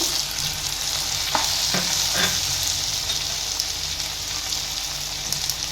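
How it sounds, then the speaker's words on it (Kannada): Coriander powder, fish masala and chili powder fry in hot oil for a Katla fish curry. A dense, close sizzle runs throughout, broken by a few scraping strokes as a spoon stirs the spices around the pan. "ಇದನ್ನು ಚೆನ್ನಾಗಿ ಹಸಿ ವಾಸನೆ ಹೋಗೋವರೆಗೂ ಚೆನ್ನಾಗಿ ಎಣ್ಣೆಯಲ್ಲಿ ಫ್ರೈ ಮಾಡ್ಕೊಳ್ಳೋಣ"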